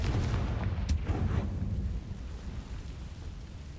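A Confringo fire spell blasting in Hogwarts Legacy, a loud rumbling explosion that crackles and fades out over a few seconds, with no talking.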